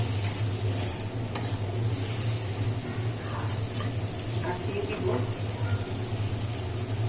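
Coriander-cumin paste sautéed in a clay pot, a steady sizzle with scraping stirs, accompanied by a persistent low hum, while a person talks over the cooking.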